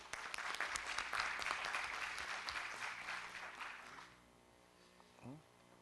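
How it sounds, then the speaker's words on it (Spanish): An audience at a judges' training session on intellectual property applauds a presenter, with dense, steady clapping for about four seconds that then fades out, and a voice briefly heard at the end. "Un aplauso, por favor, para nuestro expositor."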